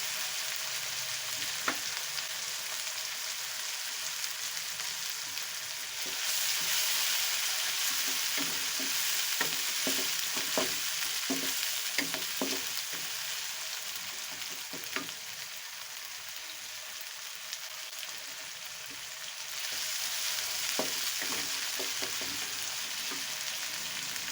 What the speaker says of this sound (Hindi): एक मिनट के लिए हम इनको अच्छे तरीके से पका लेते हैं।